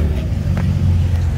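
A new Ford GT500 running E85 with a cold air intake and cat delete, its engine a loud, deep, steady rumble close by, brief and unbroken.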